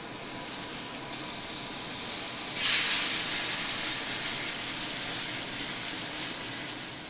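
Steak searing in a cast iron skillet gives off a steady broad hiss and sizzle, close and continuous, swelling a little partway through and then holding.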